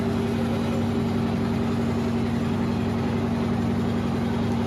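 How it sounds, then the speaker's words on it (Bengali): A trawler boat's engine drones loud and steady on a river crossing from Humayunpur ghat toward Patuli ghat in Kishoreganj, a constant low hum with no pauses. "পাটুলি ঘাটের দিকে যাচ্ছে আমাদের ট্রলার।"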